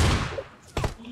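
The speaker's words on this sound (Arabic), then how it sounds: "في صوت رصاص من هون كمان." Gunfire in an online shooter game: a muffled burst near the start, then a short sharp volley of shots, all fairly distant and brief.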